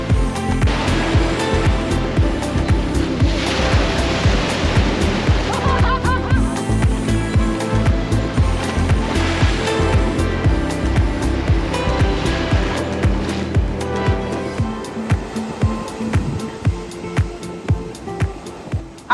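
Loud ocean waves and surf at a Florida beach, with repeated crashing breakers and a constant roar of churning water that eases slightly toward the end; no voices.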